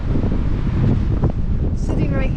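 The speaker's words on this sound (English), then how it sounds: "If you can't hear in the background, it is very, very windy." Gusty wind on the Pacific Crest Trail blasts across the microphone with a dense, low roar throughout, and a brief indistinct voice breaks through near the end.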